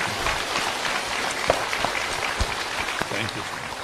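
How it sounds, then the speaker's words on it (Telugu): An audience at a women's meditation gathering claps together, producing a steady, dense wash of applause with a few sharper individual claps standing out. "Clap, clap, clap."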